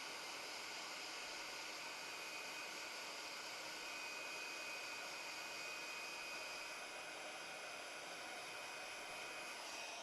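A heat tool melting embossing powder on a card blows a steady, soft hiss of airflow throughout, with a thin high whine running under it and no talking.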